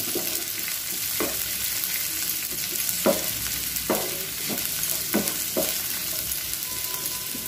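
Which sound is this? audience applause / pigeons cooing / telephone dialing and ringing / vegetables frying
vegetables frying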